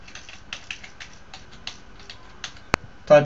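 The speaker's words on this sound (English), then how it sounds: "typing in a password" A password entered on a computer keyboard hooked up to a BeagleBoard Classic, with soft scattered key clicks at an uneven pace, then one sharp tap and a louder thump at the end.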